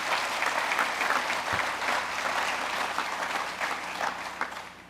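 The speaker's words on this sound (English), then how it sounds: "That's worth applauding." A crowd applauds at a Cape Canaveral launch-site event, sustained close clapping that stays strong and evenly textured before easing slightly toward the end.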